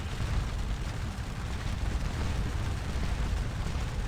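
Cannon firing canister shot in Scourge of War Waterloo, during the fight for the bridge over the Dyle at Wavre: a steady distant rumble of artillery with no distinct individual blast.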